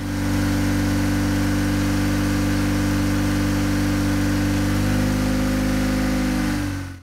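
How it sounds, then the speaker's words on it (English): A Saturn car engine idles roughly with cylinders 2 and 3 deactivated, a steady loud low drone with strong harmonics that runs continuously, then shuts off abruptly at the end. "So, we deactivated cylinder 2 and 3, and this will allow the engine to be semi-balanced"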